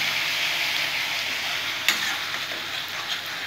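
Onion paste sautéing in a pan gives a steady, close, full sizzle with one sharp clack partway through and no voices.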